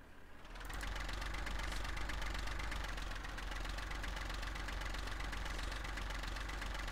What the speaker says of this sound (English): now there's 2 tractors working on this course